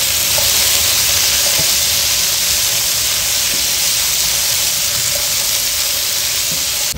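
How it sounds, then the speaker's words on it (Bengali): Chilies fry in hot oil during outdoor cooking at night, giving a loud, continuous hiss and sizzle that holds evenly throughout with no talking. "লঙ্কাটা ভাজা ভাজা হয়ে গেছে"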